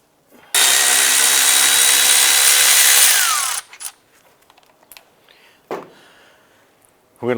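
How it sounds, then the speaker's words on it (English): Loud, continuous power-tool whine for about three seconds, likely the breaker bar and 15mm socket loosening caliper bracket bolts on a 2006-2011 Cadillac DTS, then scattered metallic clinks and handling sounds. "We're going to use a 15mm socket and a breaker bar for some additional leverage to loosen these."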